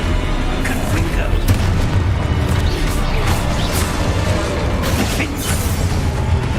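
In the video game Hogwarts Legacy, the Confringo spell is cast amid loud, dense combat audio, with booming blasts and mechanical clatter running continuously and a voice calling out over it.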